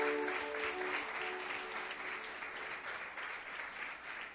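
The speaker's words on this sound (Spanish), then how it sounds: "Vamos a darle este aplauso al Señor." Steady applause from a church congregation honoring God during a sermon, continuous and fairly close, with faint musical tones lingering under the opening second.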